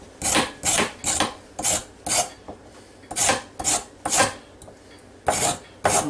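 Raw carrots scraped with a knife over a bowl, a steady series of sharp rasping strokes, close and loud, roughly two per second with brief gaps.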